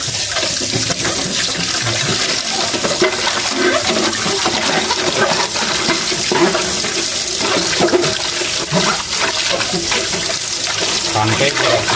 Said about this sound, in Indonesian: menuangkan air dari keran langsung ya